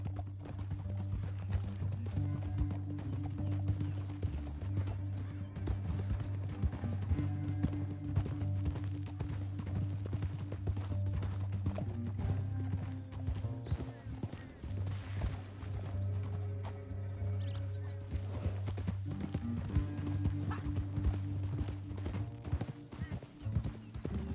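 Steady clip-clop of horse hooves plodding along in the video game Red Dead Redemption 2, with music playing beneath and an occasional snort or whinny.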